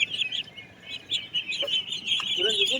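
Young chickens sold at a poultry market in G. Madugula give rapid, high repeated peeps and chirps close by, with a few lower calls mixed in under faint background market noise.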